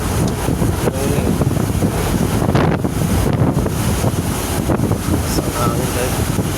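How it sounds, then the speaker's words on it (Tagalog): Strong wind buffets the microphone as a steady, loud rushing roar during a slow rainy-season road trip on slippery roads near a river, with brief speech-like bursts mixed in. "Yung iba dyan, lakas ng hangin ah."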